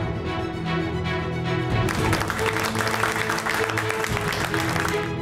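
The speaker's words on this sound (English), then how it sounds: "Give him a big round of applause." Steady, loud applause from an audience at a Bangalore health excellence awards ceremony for an award winner, a dense wash of clapping that thickens partway through and continues without pause.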